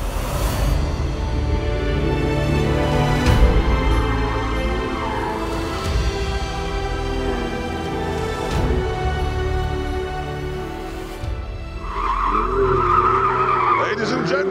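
A car skids through a corner of the Eboladrome test track, tires squealing over a loud, continuous engine roar that keeps going throughout, with someone speaking over the noise and a higher whine rising near the end.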